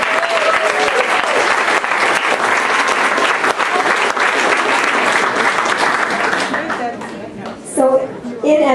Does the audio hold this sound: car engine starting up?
no